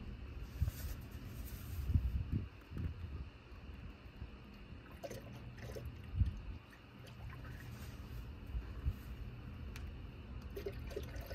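Coolant glugs and trickles as it is poured from a jug into the coolant reservoir of a Chevy Equinox or GMC Terrain 2.4L, a quiet uneven gurgling with splashy surges, no voice over it.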